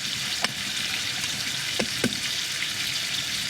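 Potatoes simmering in a pot on an Outbacker wood stove at a garden camp, a steady soft bubbling hiss with a few faint pops and plinks, no talking.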